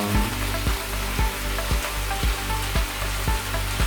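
Vegetables sizzle steadily in a hot pan, a dense, continuous frying hiss with a faint regular ticking underneath, close and fairly loud, with no talking.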